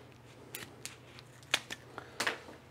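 Several quick, crisp snips of scissors cutting through door weather stripping, close by, irregularly spaced with a couple of sharper louder cuts.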